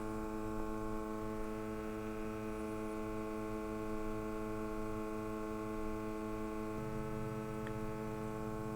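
SMART-CAL calibration station runs its purge for a SENSIT GOLD 100 gas instrument, a faint, steady electrical hum with a slight shift in tone partway through and no other sounds.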